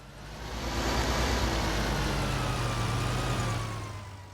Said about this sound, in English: This is such a nice tractor.